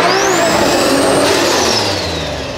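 A Toyota Supra accelerates hard nearby, its engine rising in a loud revving sweep that climbs and then eases as the car pulls away.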